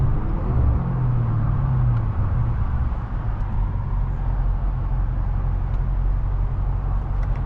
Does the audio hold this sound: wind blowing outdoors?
no